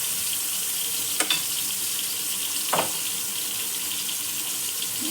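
Fish fries in oil in a pan over a low flame, making a steady close hiss and sizzle with a couple of brief louder crackles.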